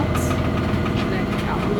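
Inboard diesel engine of a Hallberg-Rassy 42 sailboat motoring across the Labrador Sea, a steady low idling drone with constant loudness throughout, close to the microphone.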